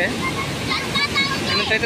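Heavy rushing water at Kothapalli waterfall in the rainy season, a constant loud broadband roar mixed with wind noise, with a voice talking over it.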